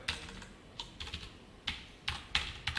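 Several short bursts of keystrokes on a computer keyboard as a URL is entered, quiet clicks in small clusters separated by brief pauses, with no talking.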